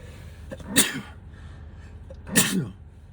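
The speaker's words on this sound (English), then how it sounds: "Sorry, I'm gonna have to sneeze." Two sharp sneezes, about a second and a half apart, each a quick explosive burst close to the listener.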